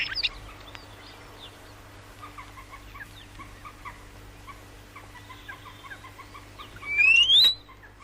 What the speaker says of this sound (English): Back to its own song.